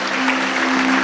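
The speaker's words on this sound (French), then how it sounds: "on peut les applaudir" Brief burst of audience clapping at a Swiss travel company's outdoor gathering, steady and close, with a sustained musical tone running underneath.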